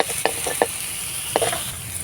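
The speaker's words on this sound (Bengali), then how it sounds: "আলু ফুলকপি ভালো করে কষানো হয়ে গেছে মানে ভাজা ভাজা হয়ে গেছে" Potato and cauliflower pieces frying in oil with asafoetida for a cauliflower samosa filling. Soft sizzle with a few sharp spatula scrapes and stirs, close and brief, no talk.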